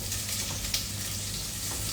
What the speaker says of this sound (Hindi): तो अभी हम एक हल्का सा सॉटे दे रहे हैं।